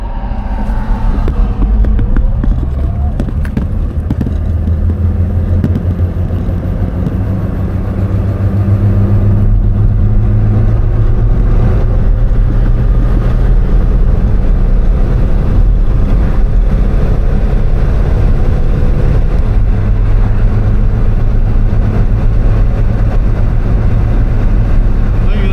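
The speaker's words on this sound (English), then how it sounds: "This car picks up fast." A Subaru Brat pickup with a swapped-in WRX turbo engine accelerates, a loud steady engine drone with heavy wind buffeting throughout.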